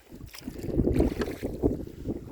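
Wind buffets a small boat pushing through choppy lake water on Lake Sonoma, a close, rough rumble of gusts and slapping waves with a few louder surges of spray against the hull.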